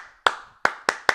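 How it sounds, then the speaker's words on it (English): A person claps hands in a quiet room, four sharp, close, distinct claps with uneven gaps between them and short decays. "It was one clap."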